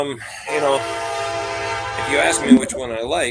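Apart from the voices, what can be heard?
train passing near house, train horn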